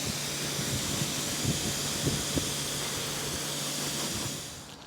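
A wheel-washing mitt rinsed out under running water during Mercedes GLC 63 S wheel cleaning: a steady, close hiss and spray of water with a few splashy bumps, fading out at the end.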